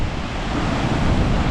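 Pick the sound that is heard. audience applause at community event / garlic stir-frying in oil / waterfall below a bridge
waterfall below a bridge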